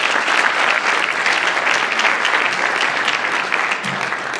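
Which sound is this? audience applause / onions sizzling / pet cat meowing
audience applause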